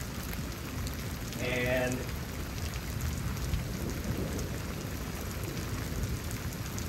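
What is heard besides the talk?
rain during a thunderstorm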